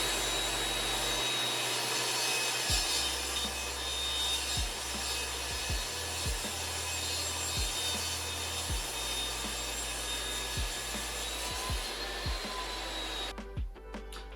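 A power saw rips a 3/4-inch strip from a 3/4-inch-thick wood board, a loud steady whine and rush that runs continuously, with scattered low knocks and bumps beneath it and a brief change near the end; no voices.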